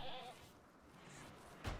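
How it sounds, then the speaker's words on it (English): A goat bleats faintly in the video game Rimworld as it is slaughtered, giving a short, quiet wavering cry that sits in low game ambience. "I hear another goat being slaughtered"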